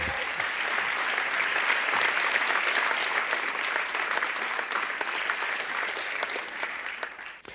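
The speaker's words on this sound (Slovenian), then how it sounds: "Lahko pa še enkrat zaploskate, ja." Sustained audience applause fills a hall at a film festival closing ceremony, loud and steady throughout before tapering off at the very end, with no talking over it.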